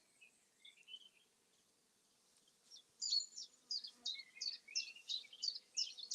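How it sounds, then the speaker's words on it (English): Honeybees buzz near a walking path along Hadrian's Wall, a faint intermittent hum before a run of louder, close buzzing bursts in quick succession. "It's honeybees."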